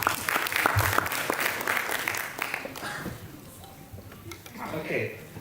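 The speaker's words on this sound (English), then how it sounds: "Let's give him a round of applause." Audience at a school personal project exhibition claps steadily, a dense patter of hands that fades slightly toward the end, with people talking over it.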